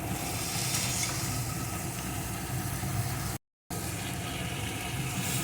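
Eggplant fries with neem leaves in a pan with a little oil while being stirred, making a constant broad sizzling hiss that stops abruptly for a split second before resuming just as steadily.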